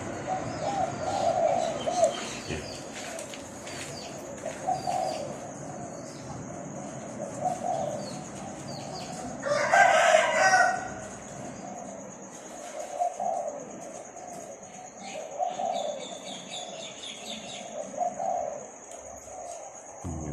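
Trained dove cooing in a rolling, repeated pattern, several moderately loud calls at regular intervals over a steady background hum, with a brief louder burst near the middle.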